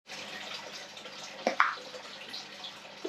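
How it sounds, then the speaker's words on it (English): Water pumps steadily into an aquarium through a Fluval 307 canister filter, a continuous rushing, trickling wash with a couple of brief splashy gurgles near the middle. "So water's now pumping in."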